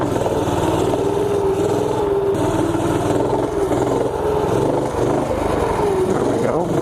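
A torquey minibike engine revs during wheelies, a steady close drone with slight rises and dips in pitch, and a person talks over parts of it.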